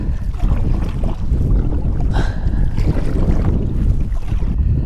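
Steady, loud wind buffeting the microphone while paddling a Jackson Kayak Big Tuna on a lake, a continuous low roar with faint water sounds underneath, no speech.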